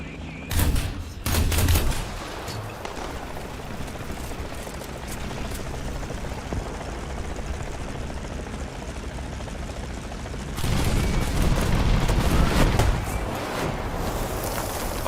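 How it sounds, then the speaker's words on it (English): A helicopter flies amid heavy gunfire in the War Thunder video game, with the Lvkv 9040C anti-aircraft vehicle in play. A loud burst of shots opens the stretch, then a steady droning rotor, and another dense volley of fire near the end. "That is a helicopter."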